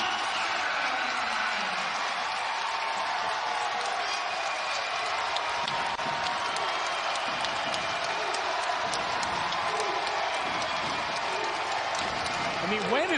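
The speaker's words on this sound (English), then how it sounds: "this crowd reacting as such, feeling some momentum" Spectators fill an arena at an NC State vs Louisville basketball game with a constant, far-off roar of cheering and applause.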